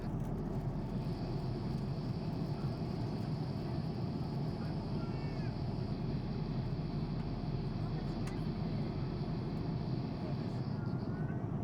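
Steady, constant roar of Boeing 787 airplane cabin noise in flight, a dense low hum with a faint high whine, unbroken throughout.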